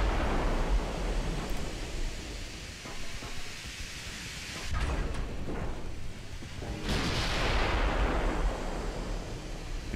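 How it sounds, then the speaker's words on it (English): Battleship guns fire in the naval game Ultimate Admiral Dreadnoughts, with heavy booming salvos over a rumbling sea ambience and several distinct blasts landing in the second half. "Try and get all the guns firing."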